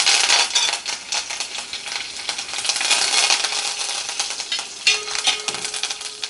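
Steady crackling sizzle of curry leaves and dried red chilies frying in hot oil, with dense popping and spitting throughout and a few metallic clinks near the end.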